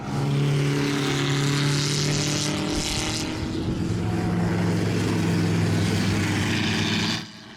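500cc race cars roar past at Kirkistown circuit, a loud sustained engine blare with shifting pitch as the pack sweeps by close, then cuts off abruptly.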